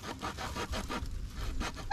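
A hand saw rasps back and forth through a wooden stick in quick, rhythmic strokes, fairly quiet and close, ending with a brief squeak.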